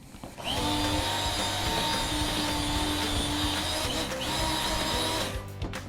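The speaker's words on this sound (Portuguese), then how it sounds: "Agora a batedeira, mais um pouquinho" An electric mixer whirs steadily through birthday cake batter, a close, loud mechanical hum that starts abruptly, holds for several seconds, then cuts off near the end.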